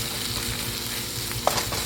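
Shrimp frying over medium-high heat in a pan for devilled prawns, seasoned with salt: a continuous close sizzle with soft stirring scrapes and one brief sharp clink near the end, no voices.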